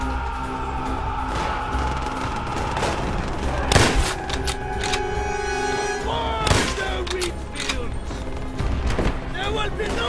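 Gunfire and explosions from the World War II shooter game Call of Duty: World at War, with dense bursts of shots and a few sharp booms over a constant battle din and soundtrack, while game characters shout orders.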